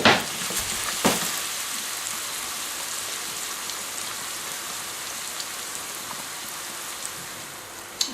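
Chopped onion sizzling in olive oil in a frying pan, a steady close hiss with a couple of sharp pops near the start, no talking.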